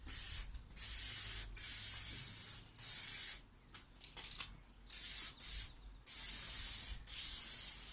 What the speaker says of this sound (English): At this rate, I might as well just spray the whole bonnet in primer,